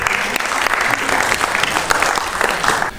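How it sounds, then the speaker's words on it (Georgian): Audience applause at a Georgian creative evening honouring a performer, a dense steady wash of many hands clapping throughout, loud and sustained. "აპლოდისმენტები მეგობრებო."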